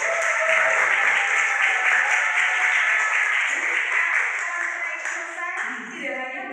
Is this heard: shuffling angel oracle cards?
no